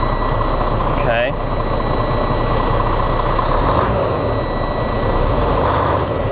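A Freightliner truck engine runs loud and steady at close range after repairs to its CPC4 throttle control, with a brief rising whistle-like chirp near the start over the continuous drone.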